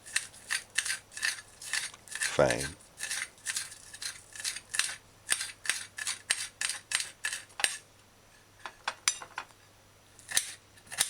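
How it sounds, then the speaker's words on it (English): A knife dices scallion on a cutting board in a home kitchen, a run of crisp, close, rapid chopping taps in irregular bursts, with a brief clatter near the start and one short spoken word. "Dice the scallion"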